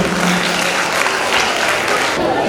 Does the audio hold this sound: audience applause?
yes